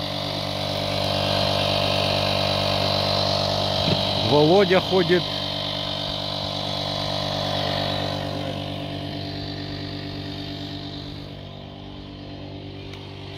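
A motorboat engine runs steadily at idle, a constant droning hum with harmonic buzz close by, while someone speaks briefly over it before the drone fades somewhat.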